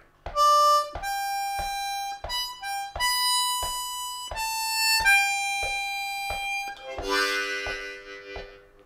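A C harmonica plays the final lick of Amazing Grace, a slow run of clear, held notes, one after another, closing on a brighter, breathier chord at the end.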